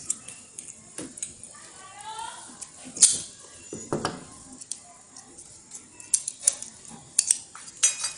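Metal soda bottle caps clink and click sharply as they are bent and pressed into place, with scattered small metallic taps and a few louder snaps standing out against quiet background.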